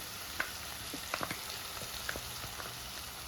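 Crushed ginger, garlic and green chili sauté with clams in a pan for a Kerala-style dish, giving a faint, soft sizzle broken by scattered small pops and crackles.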